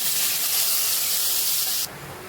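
Paneer pieces fry in hot white oil with turmeric and salt in a kadai, giving a loud, close, continuous bright sizzling hiss that cuts off abruptly near the end, with no talking.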